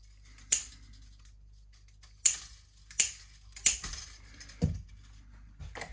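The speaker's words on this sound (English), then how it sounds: "I'll cut these here strings off so they're not getting in the way anymore" Old strings on a G&L ASAT Tele-style electric guitar are snipped off one by one, about six sharp metallic clicks spaced irregularly against a quiet background.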